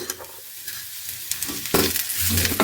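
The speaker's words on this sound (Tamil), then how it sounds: "ஒரே ஒரு பெரிய வெங்காயத்தை நைஸாக கட் பண்ணி வச்சுருக்கிறேன் அதையும் இதில் சேர்த்து நல்லா வதக்கிடணும்" Finely chopped large onion sautés in a pan, a steady close sizzle with scraping stirring strokes and louder bursts as the onion is turned.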